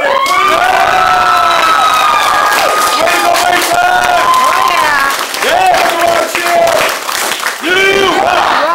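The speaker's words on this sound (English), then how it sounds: "Give him another round of applause." Crowd at a martial arts belt ceremony in Mount Dora, Florida applauding and cheering loudly, with shrill whoops and children's shouts riding over steady clapping that dips briefly near the end.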